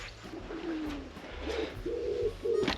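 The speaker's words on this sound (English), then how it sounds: "This place is absolutely packed full of pigeons. You can hear them everywhere." Pigeons coo outdoors at a campsite, a few soft, rolling calls repeating close by in fairly quiet surroundings.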